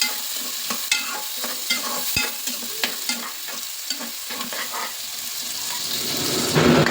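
Onions and green chillies fry in hot oil with a steady close sizzle, broken by frequent sharp scrapes and knocks of stirring, the sizzle swelling louder near the end.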